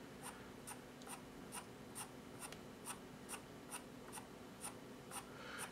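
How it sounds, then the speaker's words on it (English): Pencil shading strokes on drawing paper, a steady run of quick, evenly spaced scratchy strokes at a relaxed rhythm, close and soft with no voice. "you're gonna come in and you're gonna just lift your pencil up as you're going into the light area"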